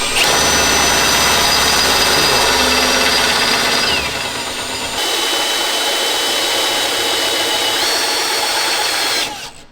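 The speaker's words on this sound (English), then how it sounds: "Got a homemade inverted drill press here." A homemade inverted drill press drills through a part during a street LB7 Duramax build, a loud, steady high-pitched grinding whine that eases briefly midway, then carries on before cutting off at the end.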